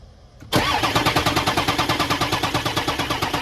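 A Ford 6.0 Powerstroke diesel with low batteries cranks on a jump box, the starter churning in a fast, even rhythm after a sudden start, loud and close with no talking.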